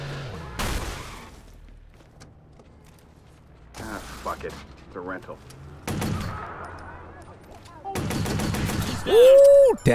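Video game gunfire from Watch Dogs online mode: bursts of shots in separate clusters spread across the stretch, some rapid and rattling, with brief talk mixed in between them.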